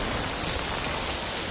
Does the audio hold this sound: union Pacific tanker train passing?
no